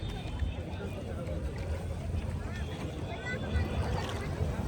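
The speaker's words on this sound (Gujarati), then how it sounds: "અમે બોટમાં બેસી ગયા છે અને બોટિંગ ચાલુ થઈ ગઈ છે અમારી." A boat ride on Nainital lake gives a steady low rumble of water and wind noise, continuous and moderately quiet with no clear speech.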